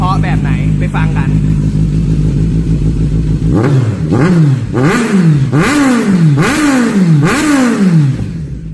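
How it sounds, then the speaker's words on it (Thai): Kawasaki Z900 ABS (2018) with an Akrapovic slip-on exhaust revving hard: a steady loud idle, then repeated sharp throttle blips rising and falling in quick succession, close and dominant. "เดี๋ยวผมจะพาไปฟังเสียงท่ออาคาว่าจะดังเพราะแบบไหนไปฟังกัน"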